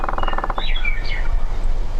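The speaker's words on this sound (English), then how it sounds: "We got some western meadowlarks in the background there, and cows, crows." Western meadowlarks sing in open cattle country, a few bright, fluting whistled phrases slurring downward at middle distance over a constant low rumble of background noise.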